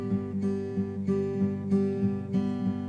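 Fingerstyle acoustic guitar, a thumbed bass note followed by plucked treble strings in a steady repeating pattern, close and clear with no voices.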